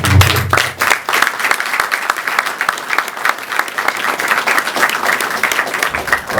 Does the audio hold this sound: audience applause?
yes